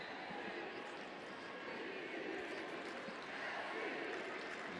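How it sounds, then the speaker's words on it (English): A stadium crowd at a Providence Park women's soccer match between Portland Thorns and Chicago Red Stars cheers, a faint, distant, continuous roar of many voices with no clear talk. "The crowd coming to life at Providence Park"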